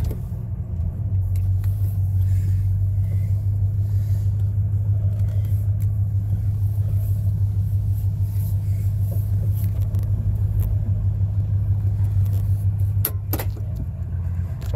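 A 1999 Ford F150 engine on a cold, windy day catches about a second in and settles into a loud, steady, deep rumbling idle that holds without change for over ten seconds.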